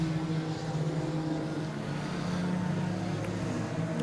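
Junior sedan race cars roar down the main straight of a circuit in a steady, loud, continuous engine drone with no clear passes or gaps.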